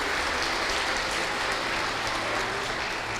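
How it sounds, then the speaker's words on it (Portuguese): Church congregation applauding together, a steady dense wash of clapping that holds at an even level throughout without any voices. "Vamos aplaudir o irmão Moisés."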